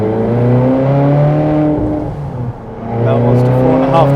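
Ferrari California 4.3 V8 held in manual mode, revving up to 4,500 rpm and then 3,000 rpm: a loud, steady, close engine note that dips briefly in the middle and swells again, with no talk over it.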